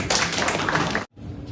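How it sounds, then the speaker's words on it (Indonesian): Audience applause at a film production launch event in Indonesia, a dense burst of clapping for about a second that cuts off abruptly into quieter room noise. "Oke. Tepuk tangan ya."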